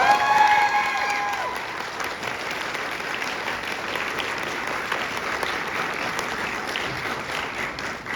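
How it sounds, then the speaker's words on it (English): A crowd at an anime convention Q&A panel applauds steadily for several seconds, dense clapping without cheering, fairly even throughout. "Can everybody give a round of applause for Zeno Robinson?"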